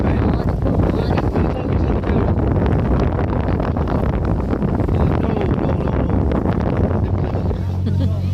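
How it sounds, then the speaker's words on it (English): A tour boat cruises on the water at Kinsale, Ireland, giving a steady, dense rush of engine drone, water wash and wind buffeting the microphone, loud and constant throughout. "You enjoy the boat ride?"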